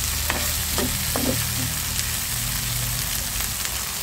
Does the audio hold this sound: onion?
yes